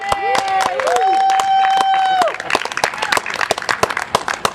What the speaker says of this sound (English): That's when we cheer. We can cheer for them.